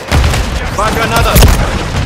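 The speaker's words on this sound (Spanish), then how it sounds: "¡Va granada!" A grenade explosion in Call of Duty MW3, heavy booms and blasts amid gunfire, loud and close, with a voice shouting over the game sounds.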